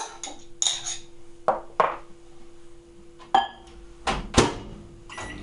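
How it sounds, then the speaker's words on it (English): A spoon stirs a melting edible fabric mixture in a bowl, making scattered close clinks and short scrapes against the bowl with quiet gaps between them. No one speaks. "Just give it a quick stir."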